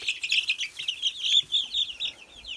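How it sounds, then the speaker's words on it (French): A hen clucks and chirps in quick repeated bursts, close by, with little else around. "Je vais vous montrer tout de suite une poule"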